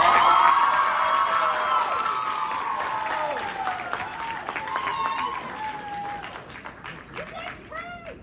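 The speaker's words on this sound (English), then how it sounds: "let's give 3 big claps for that speech." An audience at a high school candidate speech event applauds and cheers after a speech. Loud, dense clapping with whoops from the crowd that gradually thins out, and voices carry over the tail end.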